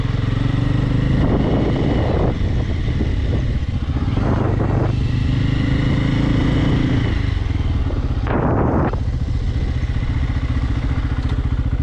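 A Bajaj Pulsar 250 motorcycle engine idling with a throbbing rumble, then revving in a few loud surges as it pulls away, all close to the listener.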